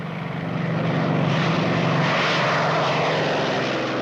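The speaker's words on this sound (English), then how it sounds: "The German fighter planes, the Me109 and the Focke-Wulf 190" German WWII fighter planes, a Messerschmitt Me 109 and a Focke-Wulf 190, roar past with a loud propeller-engine drone that swells in and holds steady.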